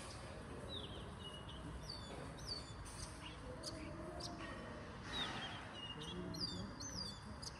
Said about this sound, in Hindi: चिड़ियों की आवाज़ आ रही है ची ची